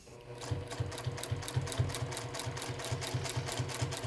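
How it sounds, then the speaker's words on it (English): A sewing machine stitches in the ditch while quilting a block, its needle thumping in a fast, even rhythm close up after a brief quiet start, running steadily to the end. "what I'm going to do is just stitch in the ditch all the way down"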